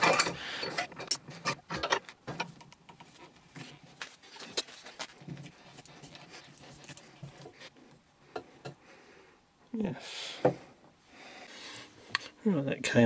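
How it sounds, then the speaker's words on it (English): A flight data recorder casing is unscrewed by hand, giving scattered close clicks, scrapes and metallic ratcheting knocks, with someone talking quietly between the sounds. "thing looks like it might unscrew. Does seem to be opening."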